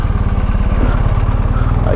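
A motorcycle engine runs loud and close at a steady, throbbing idle, its rapid low pulses continuous, on a motorcycle tour trip in the USA.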